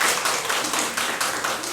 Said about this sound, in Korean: 우리 축하의 박수를 보내드리겠습니다